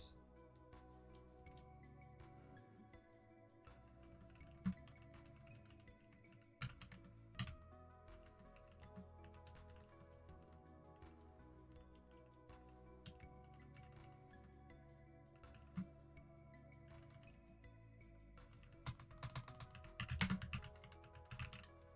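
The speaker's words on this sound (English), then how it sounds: "I'm pretty sure my mic is picking up my typing" Quiet typing on a computer keyboard, a steady patter of soft key clicks with occasional louder taps, running continuously over a low background hum.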